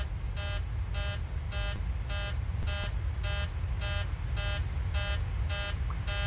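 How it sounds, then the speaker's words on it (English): A cockpit alarm in a Boeing 737-700 in Microsoft Flight Simulator 2020 beeps in steady, evenly spaced electronic tones, about two per second. It repeats continuously over a low engine hum, with no talking. "I've not seen this alarm before, folks."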